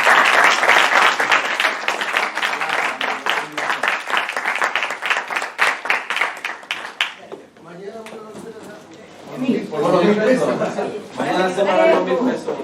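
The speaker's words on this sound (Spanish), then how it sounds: "Les cerramos con un aplauso a nuestros invitados." Audience at a financial education panel discussion giving the guests a round of applause, brisk crowded clapping for about seven seconds, then scattered chatter and laughter with voices talking.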